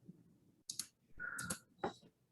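A computer mouse clicks a few times while someone works in text-editing software, giving short sharp clicks close up in a quiet room with no talk.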